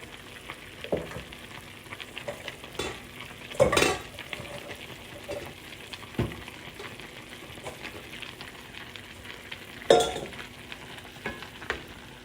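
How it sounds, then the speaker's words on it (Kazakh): Meat simmers in its own juices in a pot for kuyrdak, a steady soft sizzle and bubble with a couple of sharper utensil clatters against the pot partway through. "Еттің өзінің сөлі шығып, әдемі қайнап жатыр."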